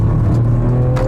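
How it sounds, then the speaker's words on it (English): A 2015 Porsche Macan S accelerates through a turn, its engine droning steadily and loudly from inside the cabin, with a slight rise in pitch over the short stretch and no talking. "accelerating while turning, still as fast as going straight."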